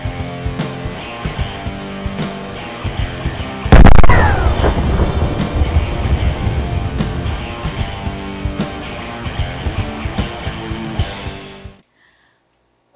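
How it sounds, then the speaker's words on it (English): A gunshot fires and is played back in slow motion, a drawn-out booming blast with a long rumbling, crackling decay that fades and cuts off abruptly. "when a bullet is fired from the gun"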